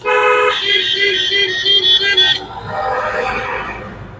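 A single steady car horn blast sounds for about two seconds, then fades into background road noise.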